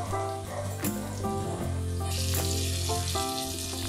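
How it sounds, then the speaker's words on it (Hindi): Shallow frying in oil over a low flame: a steady soft sizzle and hiss that grows more noticeable in the second half, heard under prominent background music. "डीप फ्राई नहीं कर रहे, इसलिए हम इसको स्लो फ्लेम पर फ्राई करेंगे।"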